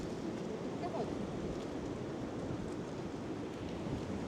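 Strong wind buffeting a microphone outdoors on a walk from a car park to a museum, a continuous dense roar with no breaks, loud and close.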